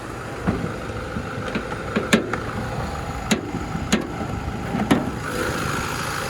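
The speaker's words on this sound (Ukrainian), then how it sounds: "Робота двигуна. Двигун працює ідеально, не димить, не сапунить." A Renault Scenic's engine idles with a steady low hum, broken by a few sharp clicks and taps.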